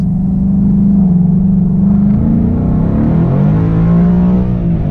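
A supercharged Ford Mustang with a 10-speed automatic accelerates hard, its engine a loud, steady close-up rumble that rises and shifts in pitch as it pulls, with no talking.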